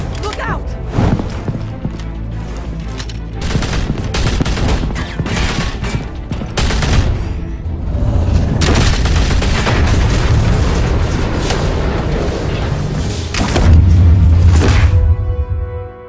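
Gunfire and heavy booms in Batman: The Telltale Series, a dense, loud barrage of impacts and blasts layered with music and dialogue, building to a sustained rumble near the end.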